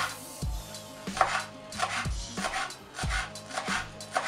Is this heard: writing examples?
no